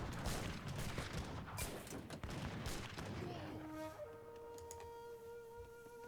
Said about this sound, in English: It's gunpowder infantry attack.